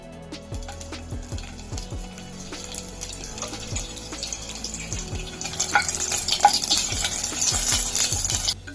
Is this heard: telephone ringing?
no